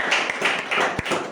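Brief burst of group clapping for students at a free school dental checkup camp, a quick rhythmic patter of hands close by with a sharper tap near the end.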